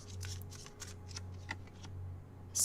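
Tarot cards being shuffled by hand, a steady run of soft papery riffles and flicks close up, with a sharper burst at the end and a low hum underneath.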